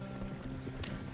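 Horse hooves clop on the ground in Red Dead Redemption 2, faint and muffled beneath a dense, noisy game mix with a low steady rumble.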